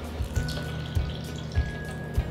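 Almond milk poured into a chocolate nut-butter oat cup mixture, a soft liquid splashing and trickling with a few light thuds, close and steady, no talking.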